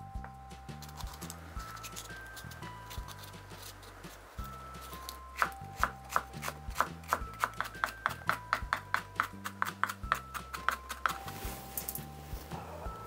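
Knife chopping one red chili and two Cheongyang peppers on a cutting board: a steady run of quick, crisp taps that speeds up in the second half, over soft background music.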